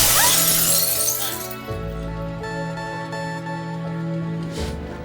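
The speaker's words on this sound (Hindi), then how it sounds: "पहली बार तेरी गाड़ी का कांच तोड़ा था।" Car window glass smashed in a dramatic film scene, a loud sharp shatter at the start with tinkling fragments, then a sustained droning musical tone and a second burst near the end.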